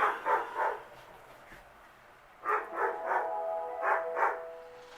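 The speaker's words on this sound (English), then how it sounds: "Dogs are barking like crazy." Several dogs bark in short bursts, a pair of yaps early on, then a quick run of barks, moderately close, with quiet gaps between.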